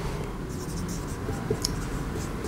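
Pen or chalk scratches numbers onto a board during a fifth-grade maths lesson, a steady faint scraping under background hiss with no speech over it.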